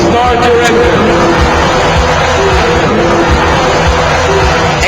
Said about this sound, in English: Gentlemen, for the pride of your nation, start your engine.